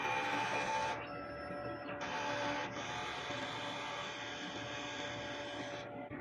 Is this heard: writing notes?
no